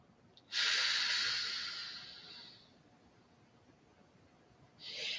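A single long exhale during a breathing exercise, a loud breathy rush that fades over about two seconds, followed by quiet and then the start of the next breath. No talking is heard over it.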